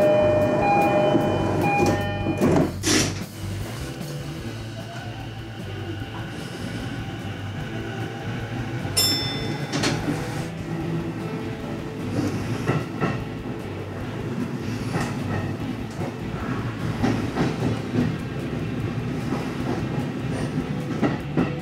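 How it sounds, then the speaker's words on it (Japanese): A Chuo Line rapid train bound for Tokyo rumbles along from inside the carriage, with steady wheel clatter, rhythmic clicks over rail joints, brief squeals and clanks, and a continuous low drone. "この電車は中央線中央特快東京行きです。"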